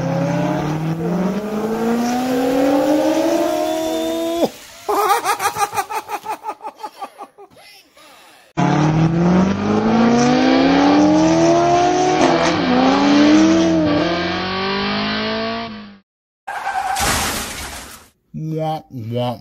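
Small die-cast toy camera car rolling in a Hot Wheels drag race, a close whirring, buzzing motor tone with rising and falling pitch, broken by short pauses and a rapid rattling stretch, with excited voices over parts of it.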